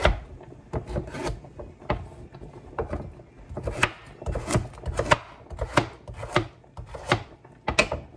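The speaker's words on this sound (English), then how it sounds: "Continue chopping your carrot." A knife chops carrots steadily against a wooden board, sharp close knocks in an uneven rhythm, with faint rustling between strokes.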